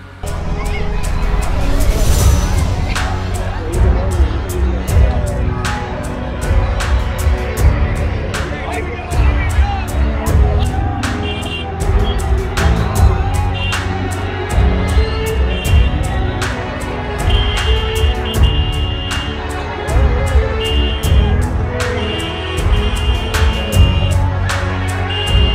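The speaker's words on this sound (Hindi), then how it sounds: "महज एक कंबल के लिए कितनी भीड़ इकट्ठा हुई है आप देखिए जरा।" A large, noisy crowd packs a rally in Meerut for a free blanket handout, with loud babble and shouting, horns honking and sharp clacks, as a voice talks over the din.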